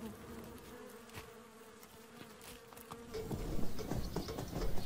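Wild bees buzzing close by, a steady low drone with passing flights near the microphone, growing louder and busier toward the end, with no voices.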